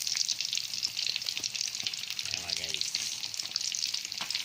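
Bangus, alumahan and dalagang bukid fish frying in a pan, a bright steady hiss of hot oil with crackles and a brief clatter partway through.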